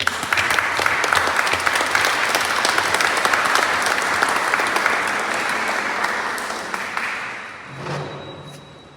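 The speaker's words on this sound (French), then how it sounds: "Acclamons pour notre Seigneur." A church congregation at Easter Mass in Soussans breaks into loud, sustained applause that carries on steadily before gradually tapering off near the end.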